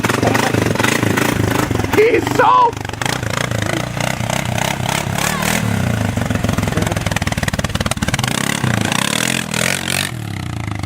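A quad bike engine runs on a rainy farm field as the rider backs it up and parks it, idling and revving with clattering and scraping over about eleven seconds while people talk nearby.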